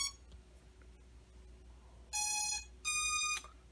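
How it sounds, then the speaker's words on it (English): MJX B12 EIS 4K quadcopter ESCs play their startup tones: two bright, steady electronic beeps in sequence, each about half a second long, loud and clear over a quiet background with no talk. "The ESCs have sung their song."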